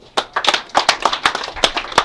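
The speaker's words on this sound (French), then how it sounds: "je demande d'applaudir" A small group claps at an outdoor anniversary celebration in Koutourou, giving a short run of sharp, uneven claps that rise and fall over about two seconds.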